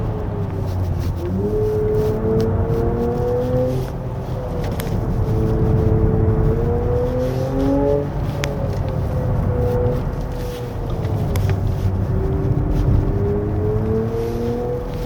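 A 2026 Genesis GV60 Performance AWD electric SUV accelerates on a winding road with simulated automatic gear shifts, its synthetic engine tone rising in pitch, dropping at each upshift and climbing again, steady and loud inside the cabin.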